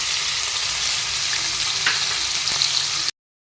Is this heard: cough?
no